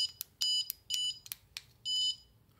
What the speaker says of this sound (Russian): отсюда идет пик-пик.